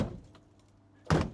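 The non-working door latch of a 1964 Ford Galaxie that sat for 30 years gives a single short, loud clunk near the end after quiet, faint rustling.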